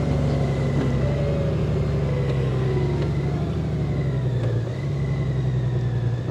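A 2021 Honda Gold Wing DCT motorcycle cruising along the Pacific Coast Highway toward Del Mar, its engine holding a steady low drone under constant wind and road rush, fairly loud throughout with slight pitch shifts.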